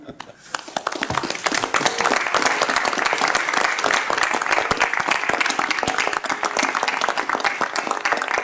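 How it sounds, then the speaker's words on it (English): Commonwealth Transportation Board members stand and applaud at a board meeting, a dense, steady wash of many hands clapping that swells in after a quiet start and holds loud and sustained throughout. "please stand and applaud with me."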